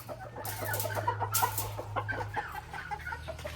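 Claret gamefowl hens clucking nearby in a farm pen, several soft rhythmic clucks repeating over a steady low hum, with no talking.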